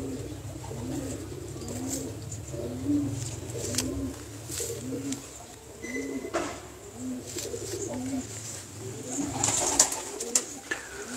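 Pigeons at a high-flying pigeon loft coo in a steady repeating rhythm of soft low phrases, close by and continuous, over a faint background hum with occasional brighter chirps.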